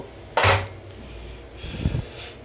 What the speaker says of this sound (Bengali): আমি এখন ঢাকনাটা খুলব।